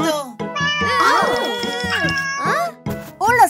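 A cartoon cat meows in high, sliding cries that overlap a child-like animated voice, with quick playful phrases and a few separate mews near the end.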